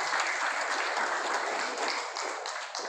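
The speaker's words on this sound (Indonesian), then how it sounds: "Berikan saya beri aplaus kedua" A seated crowd at a regional government outreach meeting in Makassar claps in a brief, dense round of applause that stays steady and fades slightly at the end.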